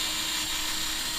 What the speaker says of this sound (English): Ensure your template is in place and just drill through